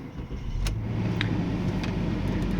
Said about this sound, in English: Car starts just fine.